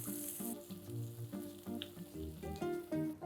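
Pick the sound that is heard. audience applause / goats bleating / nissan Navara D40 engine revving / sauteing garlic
sauteing garlic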